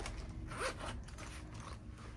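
A zipper on a wallet is pulled along in a steady, raspy run of about two seconds, close up and quiet against low room hiss.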